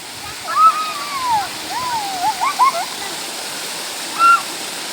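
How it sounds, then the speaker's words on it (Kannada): A steady rush of water from a small waterfall fills the background while birds chirp and call in short bursts over it. "ಇಲ್ಲಿ ಸಣ್ಣ ಚಿಕ್ಕದಾಗಿ ಒಂದು ಫಾಲ್ಸ್ ತರ ಇದೆ"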